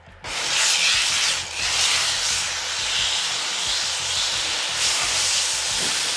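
A steak searing directly on hot charcoal in a barbecue cookout, giving a loud, steady broadband sizzle and hiss that holds throughout with a brief dip early on and no talking.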